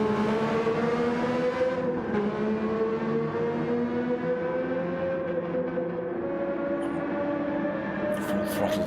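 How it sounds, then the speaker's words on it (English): A classic Formula 1 race car at Brands Hatch screams at full throttle, its loud sustained engine note sweeping steadily in pitch over about nine seconds with no pause and no voices. "Full throttled it down there to"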